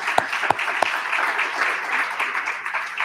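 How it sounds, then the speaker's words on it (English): An audience at an annual meeting applauds the staff. A few sharp, close claps open it, then a steady wash of clapping carries on for several seconds. "I'd like to give a round of applause to all of them"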